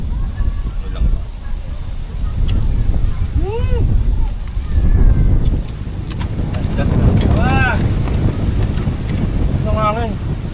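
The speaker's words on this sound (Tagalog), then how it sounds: "Ang hangin." Steady wind rumbles and buffets the microphone throughout by the Kalasag River in Nueva Ecija, Philippines, with faint bird chirps and a voice in the background.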